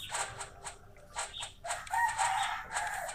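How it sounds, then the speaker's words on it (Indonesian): Chickens cluck and a rooster crows in a game set during the Diponegoro War, the calls coming in short repeated bursts at moderate volume against a quiet background. "ada suara ayam"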